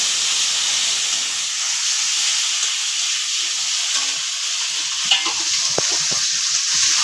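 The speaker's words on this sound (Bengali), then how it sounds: "দিয়ে দিচ্ছি কেটে রাখা একটা বড় সাইজের টমেটো।" Chopped large tomato tipped into hot tempered spices for a prawn curry, setting off a loud, steady sizzle and hiss with scattered scraping taps of a spoon stirring in the pan, no voices.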